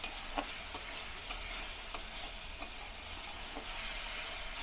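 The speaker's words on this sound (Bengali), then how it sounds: "মসুরের ডাল দিয়ে সুন্দর করে নাড়াচাড়া করে কষিয়ে নিব।" Red lentils for a Malabar spinach dish fry in a pan with a constant sizzle while a utensil stirs them, giving faint periodic taps over the hiss and no speech.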